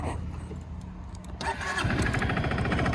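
A Honda Forza MF08 scooter, which has a faulty driven pulley sensor, cranks briefly and its engine catches, then settles into a steady, close idle.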